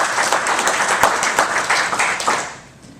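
Audience applause at a city chamber event, a dense steady patter of many hands clapping at moderate volume, tapering off toward the end.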